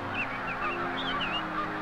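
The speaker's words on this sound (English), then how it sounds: "To lure the geese into the capture area" Wild geese honk repeatedly in a series of short calls over a steady low rumble, heard while they are lured toward a corn-baited net trap.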